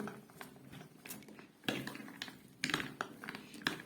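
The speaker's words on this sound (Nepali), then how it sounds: "म 2 चम्चा लिएर चाहिँ मोल्न गइरहेको छु।" Peanut sadeko being tossed and mixed with two spoons in a bowl, close, quiet clinks and scrapes of metal on metal and bowl, irregular and brisk, with no talking.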